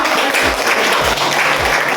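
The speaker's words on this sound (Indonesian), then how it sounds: "Oke, tepuk tangan." A crowd claps steadily and densely for about two seconds, a full, continuous wash of applause with no talking over it.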